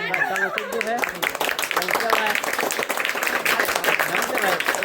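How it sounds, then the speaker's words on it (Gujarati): People clapping as a birthday cake is cut at a home celebration, a lively, rhythmic patter of many hands close by, mixed with chatter and voices throughout. "છે તાળી મારવા માંડ્યા છે"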